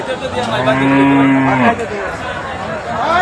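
Bulls at a crowded cattle market, including a pair of Australian-breed dairy bulls, bellow in a loud, close, drawn-out moo that falls off, followed by another rising call.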